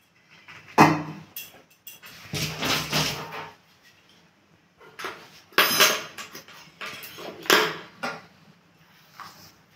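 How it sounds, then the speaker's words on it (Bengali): Hot rice being stirred into cooked vegetables in a pan for party-style Bengali fried rice, with bursts of spoon-on-metal scraping and clatter at an uneven rhythm, separated by short quiet pauses. "এবার ভাতটা দিয়ে আমি মিশিয়ে নেব।"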